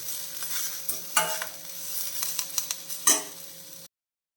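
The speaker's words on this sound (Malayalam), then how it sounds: "ആ മല്ലിയിലയുടെ നിറം നഷ്ടപ്പെടണ്ട ചെറുതായിട്ടൊന്ന് വഴറ്റിയെടുത്താൽ മതി" Coriander leaves sautéing in a pan: a soft continuous sizzle broken by scraping stirs and light utensil knocks, then sudden silence near the end. Nothing is spoken.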